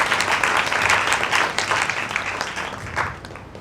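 An audience at a live talk event claps in a dense, steady round of applause that stays loud throughout, easing slightly toward the end, with no voices over it.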